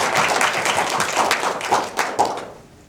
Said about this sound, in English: So big round of applause, please, for Bob and Ben.